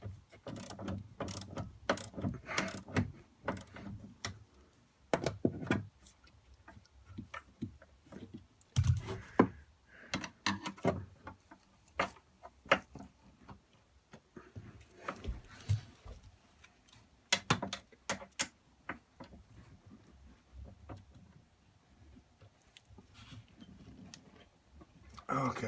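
A 9/16 socket ratchet tightens a nut during slide-out room repair on a 2013 Arctic Fox 25R camper, with quick clicking ratchet bursts and metallic taps, close and fairly quiet, alongside occasional talk.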